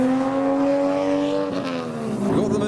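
A modified turbocharged car accelerates away from a car show, its engine holding a steady loud droning note that wavers and shifts pitch near the end, with no talk.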